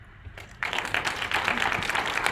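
After a brief quiet moment at a health research centre launch event, an audience breaks into steady applause that rises abruptly and holds at full strength.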